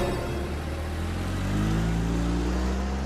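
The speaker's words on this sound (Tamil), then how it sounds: "வண்டி எடுங்க." A car engine running and pulling away, a steady close rumble with a slight rise in pitch as it accelerates, no talk over it.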